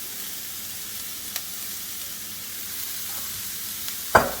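Cauliflower fried rice fries in a wok with a soft, steady sizzle, broken by a few faint scrapes and clicks of stirring and a sharper knock near the end.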